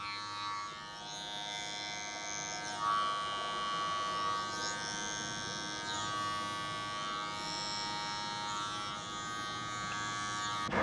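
Electric hair clippers buzz steadily close by as they run up through hair on a head during a short haircut, a continuous high whine with slight shifts in pitch as the blades move.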